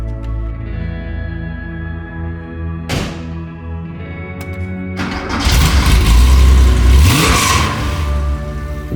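A vintage Porsche 911 engine idles with a steady low drone, then at about five seconds it revs hard into a loud, rough, deep rumble that swells and fades near the mic.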